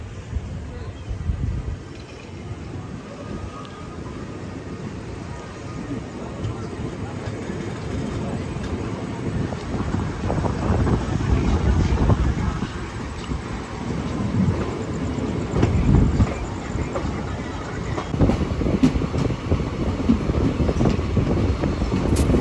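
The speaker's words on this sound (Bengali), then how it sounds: "আমাদের ট্রেন ছেড়ে দিল হচ্ছে কাশিমবাজারের উদ্দেশ্যে" The 53181 Lalgola Passenger train pulls out of Berhampore Court station toward Kasimbazar, heard from on board as a continuous rumble and clatter of wheels that slowly builds. Someone talks over it.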